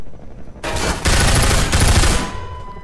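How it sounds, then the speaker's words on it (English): Machine gun fire in Half-Life 2 VR, a loud close sustained burst of rapid shots lasting about two seconds with a brief break partway through, then tailing off. "The machine gun will sort them out."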